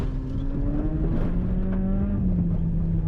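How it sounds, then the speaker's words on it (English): A rally-cross car drives past in a loud, continuous engine drone, its pitch holding steady and then shifting slightly as it moves, close to the listener with no talk over it. "Maybe we can hear the car go."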